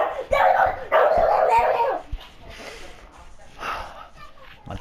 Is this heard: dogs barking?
yes